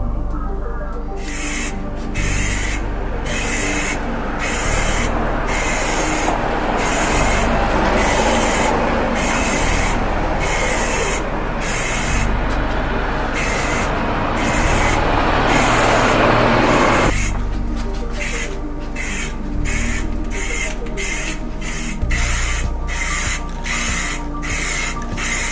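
Plasti Dip aerosol cans spray a van hood in repeated short hissing bursts, with one long continuous spray in the middle and then more rapid pulses, loud and close with no voices.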